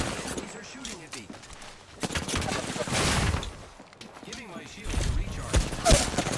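Bursts of gunfire ring out in an Apex Legends ranked match, loud, with fast fusillades of shots starting and stopping over several seconds while a player talks over the fighting.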